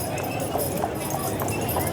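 Horse hooves clip-clopping while pulling a trolley on Main Street USA at the opening of Disneyland, a steady rhythmic clatter amid crowd noise, with people talking over it.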